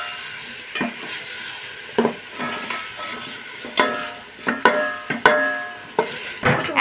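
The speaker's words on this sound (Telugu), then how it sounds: "ఇందులో అయితే శనగపప్పు అయితే వేసేసుకుంటున్నాము. ఇప్పుడు వేసుకుంటే అప్పటికి ఉడుకుతుంది అనమాట. బాగా మిక్స్ చేసుకోవాలి." Chana dal is mixed with coconut milk and ginger paste in a pot for coconut rice, with a spoon scraping and clanking against the metal in repeated strokes over a gentle simmering sizzle, close and fairly loud.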